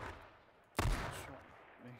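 A single loud, close gunshot blast in the survival shooter H1Z1, sharp and broadband with a short ringing tail, followed by quieter game ambience and a faint low tone near the end.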